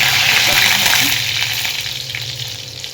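Cumin seeds and garlic frying in hot oil with mustard seeds, giving a loud, dense, steady crackling sizzle that fades slightly toward the end.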